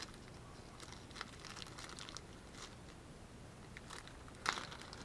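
Plastic bags holding survival kit parts being handled, a soft continuous crinkling with a few sharper rustles, close and quiet with no talk.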